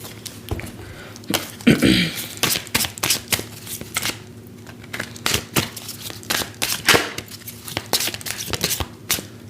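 A deck of tarot cards is shuffled by hand in rapid bursts of papery riffling and slapping, close and crisp, with short pauses between runs.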